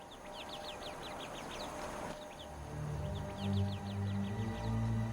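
Young birds call in rapid high chirping bursts, faint and somewhat distant, over low background rumble.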